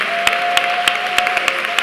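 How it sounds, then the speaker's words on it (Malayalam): A congregation at an IPC prayer crusade claps in praise, the sharp, evenly spaced claps landing in a steady rhythm over a sustained musical tone, loud and close throughout. "പൂർണ്ണ ബലത്തോടെ വക്കോളം കൈയടിച്ച് സ്തുതിക്കാവുന്നവരെല്ലാം കൈയടിച്ച് സ്തുതിച്ച്"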